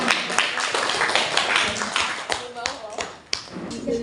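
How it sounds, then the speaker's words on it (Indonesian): Audience applause at a school classroom session, with dense clapping that continues for a few seconds and then thins into scattered claps, with some voices mixed in. "Berikan tepuk tangan."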